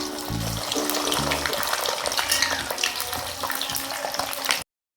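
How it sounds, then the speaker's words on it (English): Peanuts fry in hot oil for ketoprak with a steady crackling sizzle, joined by low tonal hums and clattering bursts early on; the sound cuts off abruptly near the end. "First of all, we fry the peanuts first until well cooked."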